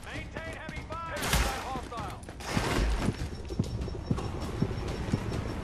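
Gunfire in the video game The Division, with bursts of rifle shots and sharp repeated reports, some heavy and close, plus scattered single shots over a noisy combat bed.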